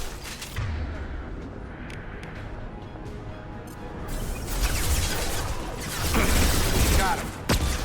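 Mass Effect 2 gunfire, a dense crackling volley that swells after the first few seconds and runs almost without pause to the end, with dull blasts and game noise underneath.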